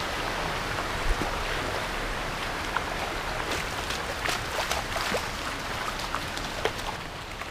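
Rushing water from a waterfall in the hills near Sentul, Babakan Madang, Bogor, a steady broadband roar with scattered splashing droplets, continuous and fairly close, with no talk.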